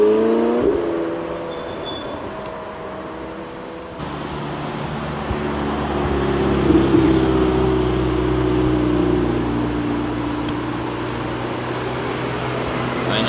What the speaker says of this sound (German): 720S Spider in Weiß.